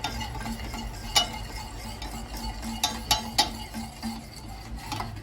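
A wire whisk stirs milk into a béchamel sauce in a pot, giving a steady soft scraping swish with a few sharper clinks against the pan, alone without talk.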